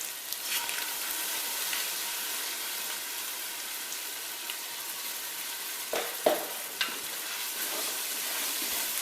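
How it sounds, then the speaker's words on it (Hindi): Ginger-garlic paste frying with onions in hot oil for a Bombay biryani, a steady close hiss of sizzling with a few scraping stirs of a utensil near the middle. "इसमें अब मैं डालने लगी हूँ अपना ये अदरक लहसुन का पेस्ट।"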